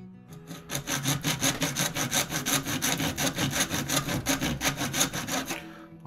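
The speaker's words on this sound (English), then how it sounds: "now I'm just going to take a regular saw and finish the work." A hand saw cuts back and forth through a cold shoe mount in quick, even rhythmic strokes, close and loud with no talking.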